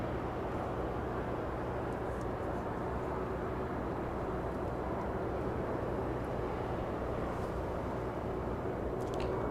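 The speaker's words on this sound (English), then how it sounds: "It looks like we just had a heavy arrival here in the south." Heavy FedEx freighter aircraft arriving at Los Angeles International Airport, a steady distant roar of jet engines held at an even level for the whole stretch, no talk.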